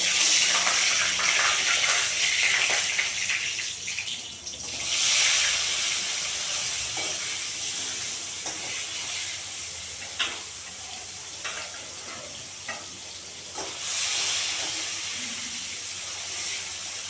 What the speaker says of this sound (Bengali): মাছটা আমি ভাজা বসিয়ে দেবো